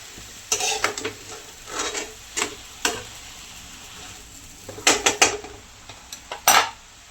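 Intermittent scraping and clinking of a spoon against a pan as fenugreek greens are stirred and tossed with masala, a series of short close strokes separated by brief pauses, with no voices.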